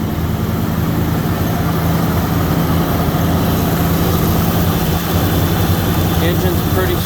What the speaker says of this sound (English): Engine's pretty smooth.